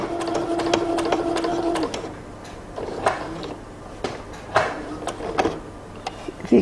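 A sewing machine stitches a pocket point on drawstring pants, running steadily at first and then stopping for short, uneven bursts with clicks and handling noises as the fabric is turned.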